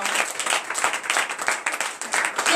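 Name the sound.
congregation applauding and cheering for the Lord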